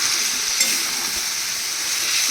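Potato and pea masala sizzling steadily in a pan with a little oil as it is stirred and sautéed, a continuous close hiss with faint scraping, no voices.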